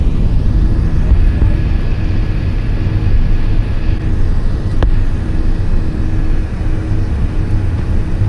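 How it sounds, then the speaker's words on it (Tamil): Airliner taking off from Mumbai, a loud, steady roar from engines and rolling wheels that fills the cabin without letup, with a faint click partway through. "ஃப்ளைட் டேக் ஆஃப் ஆகிடுச்சு. இப்போ தான் டேக் ஆஃப் ஆகுது."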